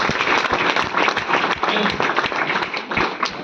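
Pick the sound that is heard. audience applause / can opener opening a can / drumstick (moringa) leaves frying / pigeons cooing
audience applause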